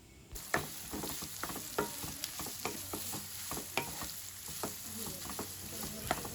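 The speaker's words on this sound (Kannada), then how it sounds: "ಅದನ್ನು ಚೆನ್ನಾಗಿ ಫ್ರೈ ಮಾಡ್ಕೊಳ್ಳೋಣ" Small chopped onions frying in a pan on medium flame for egg bhurji: a constant close sizzle punctuated by a regular series of sharp spatula scrapes and taps, with no voices.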